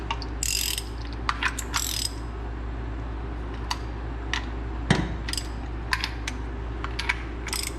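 A wrench ratchets in short quick bursts of clicks as bolts are tightened on a mini truck, close and fairly quiet, with scattered metallic taps between the bursts.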